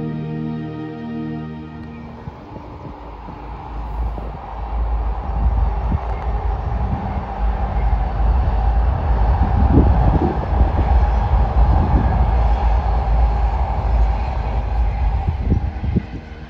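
A train rumbles across a railway bridge, heard from on board with a steady, loud low roar and rattle that swells and holds throughout, with no talking.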